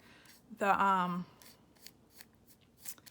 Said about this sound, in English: I'm actually just gonna kind of tear these into pieces and kind of stick them on.